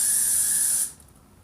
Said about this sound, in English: for this part that's sticking out, you just spray it, turn it, and roll it